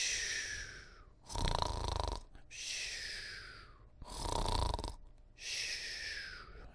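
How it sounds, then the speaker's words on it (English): Loud, slow snoring with several long rasping breaths in a steady rhythm, each followed by a quieter whistling exhale, close and alone. "It was the sound of snoring."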